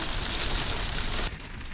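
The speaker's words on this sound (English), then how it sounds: "when I step out here, you're gonna hear the wind. And the rain" Steady rain and wind wash over an outdoor spot in Switzerland near Romont and Leysin, heard from shelter under a tree, loud and broadband before dropping off abruptly near the end.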